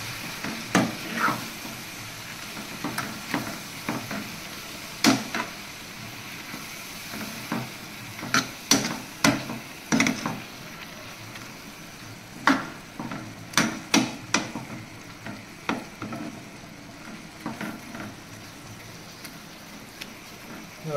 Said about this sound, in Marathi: आपण हे फ्राय करून घेऊया, याच्यामध्ये मिक्स करून घेऊया मसाल्यामध्ये.